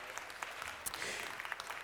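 A city council chamber audience gives a round of applause, heard faint and distant as a thin, scattered patter of hands with a few sharper claps standing out.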